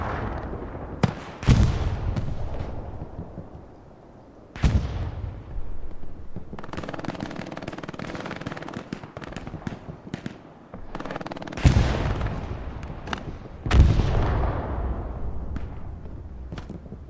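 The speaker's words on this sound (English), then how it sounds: "we do have another bombing run coming in" Explosions from a bombing run in the World War II shooter Hell Let Loose on Utah Beach, a series of loud booming blasts with rumbling tails at irregular intervals over continuous battlefield noise.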